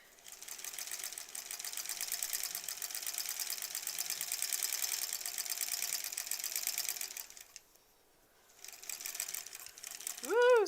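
Sewing machine stitching a quilt block seam at a steady fast whir that runs close and loud, pauses briefly, then resumes before a short rising sound at the end.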